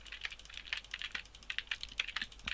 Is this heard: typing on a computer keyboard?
yes